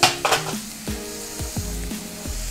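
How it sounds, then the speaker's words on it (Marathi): Onion, cabbage and carrot sauté for schezwan fried rice, with a loud sizzle at the start and then a series of ringing metallic taps of a spatula against the pan, roughly every third of a second. "हे सर्व आपल्याला 1-2 मिनिटं व्यवस्थित आपल्याला हे परतवून घ्यायचं आहे"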